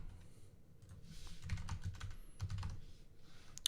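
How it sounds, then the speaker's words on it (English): Quiet typing on a new RGB computer keyboard, with short clusters of soft key clicks in an irregular rhythm over faint room noise. "So if my typing is weird or whatever today, that is why."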